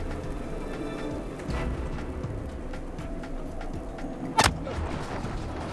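A single sharp sniper shot in Star Citizen, fired from a ship turret or rifle across roughly 800 meters of open ground near a low hill, cracks out once over a steady rain-like ambient hiss.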